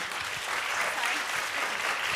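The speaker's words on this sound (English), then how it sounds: "we are going to give everyone a round of applause" A panel audience breaks into steady, full applause, a dense wash of clapping hands that carries through without pause.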